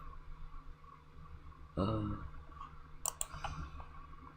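Quick computer mouse clicks while building in Roblox Studio. One soft knock comes first, then a few crisp clicks close together later, all quiet and close.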